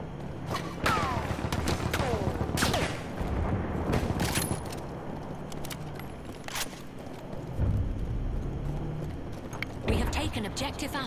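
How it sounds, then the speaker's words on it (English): Revolver shots in the World War I shooter The Great War, several sharp cracks scattered among distant gunfire and booms over a busy battlefield, with voices talking throughout. "I just shot a guy in the head with my revolver"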